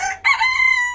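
A rooster with a horned crest and a white nail lets out one loud, close crow lasting about a second, with a brief clipped start before the full rising call.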